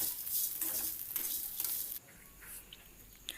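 Pirandai chutney ingredients with salt sautéing in a pan, a dense steady sizzle with a few stirring scrapes, close up, the hiss dropping slightly partway through.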